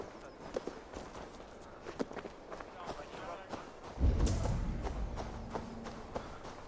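A horse walking in Assassin's Creed Valhalla, steady clip-clop hooves in an even rhythm, then a louder low rumble takes over partway through.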